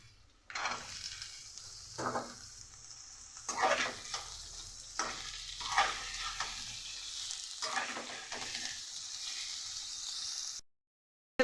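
Cut potatoes and eggplant drop into hot oil with deeply browned fried onions, bursting into a loud, steady sizzle with repeated stirring scrapes, then the frying continues before cutting to silence at the end.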